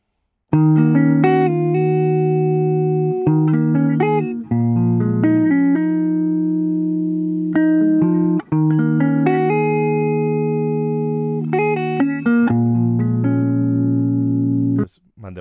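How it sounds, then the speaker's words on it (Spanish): A looping electric guitar phrase plays alone, clean and steady with repeating chord and note patterns, a short pause midway before the figure resumes. "aquí tengo un loop de guitarra"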